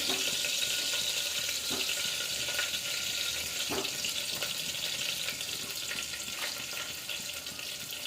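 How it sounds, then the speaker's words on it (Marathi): Stuffed brinjals dropped into hot oil in a pan give a steady, close hiss of frying, with faint crackles and pops scattered through the sizzle. "त्यानंतर आपण ही भरलेली वांगी त्यात मिक्स करूया, तेलामध्ये सोडूया।"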